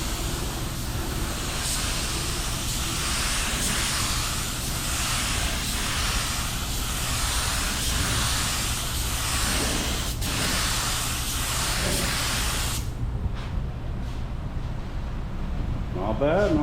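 A DIY spray gun lays down a first coat of paint with a continuous loud hiss for about thirteen seconds, then cuts off to quieter shuffling.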